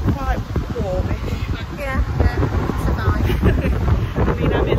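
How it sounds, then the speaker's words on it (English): Strong wind buffeting the microphone outdoors near a road transport museum in Lincoln, a loud continuous rumbling roar with gusts, while people talk over it. "Very windy, but it's dry and it's still quite warmish."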